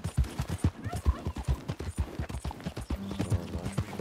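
Horse hooves clip-clopping at a steady trot in Red Dead Redemption 2, a close rhythmic series of thuds with a low game hum beneath in the last second.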